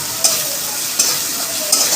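Spices with turmeric powder and salt being sautéed for a pabda fish curry: a loud, constant hissing sizzle close up, with three sharp spatula scrapes against the pan spaced evenly apart.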